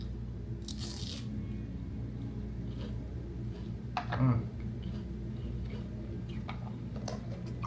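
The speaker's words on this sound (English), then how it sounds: "I'm sure you can hear the crunch." Crunchy spring rolls are bitten into close to the mic, giving a few crisp crunches amid a steady background hum, with one louder bite near the middle.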